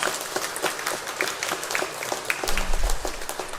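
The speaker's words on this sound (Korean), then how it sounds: "박수 한번 하세요" A church congregation applauding during a Sunday service, a continuous patter of many hands clapping at moderate volume, with a short low rumble near the end.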